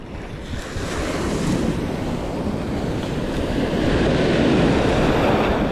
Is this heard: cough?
no